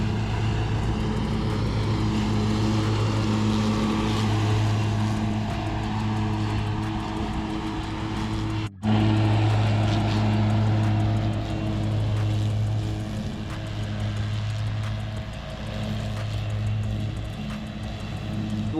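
A Scag V-Ride 2 riding lawn mower with a 61-inch deck cutting an open field, a steady loud engine drone with a hum that stays constant, broken only by a very short dropout midway.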